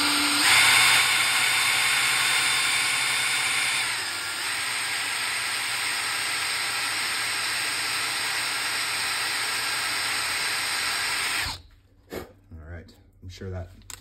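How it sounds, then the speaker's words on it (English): A power drill bores out a broken screw in a fastener repair lab, a steady high-pitched whine with a slight drop in pitch partway through, running for about eleven seconds before stopping, followed by someone talking. "that drill probably doesn't sound great over the microphone"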